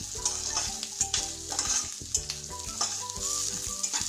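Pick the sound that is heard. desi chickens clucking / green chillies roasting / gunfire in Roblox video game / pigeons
green chillies roasting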